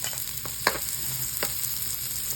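Onion frying in a pan while home-cooking sweet and spicy chicken wings: a steady low sizzle with a few sharp stirring clicks and scrapes, close by, with no voices.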